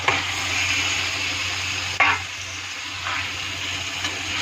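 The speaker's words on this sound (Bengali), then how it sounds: "চিকেনটা দিয়ে ভালো করে মিক্স করবো।" Chicken pieces and spice paste sizzle and fry in a pan while being stirred, a continuous close hiss with a sharp scrape partway through.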